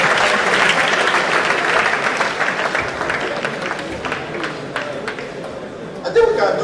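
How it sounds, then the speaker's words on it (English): An audience at a university lecture on public corruption in Nigeria applauds as a professor walks to the microphone, with dense clapping and some chatter and chuckles that gradually thin out. "It is okay to put your hands together as a walk to the microphone."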